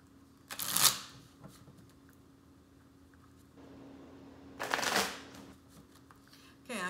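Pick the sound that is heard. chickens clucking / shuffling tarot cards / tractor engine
shuffling tarot cards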